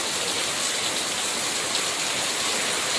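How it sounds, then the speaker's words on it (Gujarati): Heavy downpour over a village in Lakhpat taluka, Kutch, a steady dense hiss of rain with no pauses, close and continuous throughout. "ત્યાં પણ આજે ધોધમાર વરસાદ જોવા મળ્યો છે."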